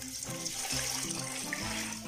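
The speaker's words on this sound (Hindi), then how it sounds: "3 ग्लास पानी लिया है हमने" Three glasses of water pour steadily into a cooking pot for mutton karahi, a continuous splashing stream heard close and clear over background music.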